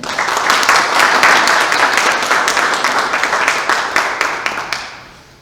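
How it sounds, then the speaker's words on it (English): An audience at a book and poetry magazine launch event bursts into loud, sustained applause from many hands, which holds steady for several seconds before tapering off to a few last claps. "one more round of applause for them."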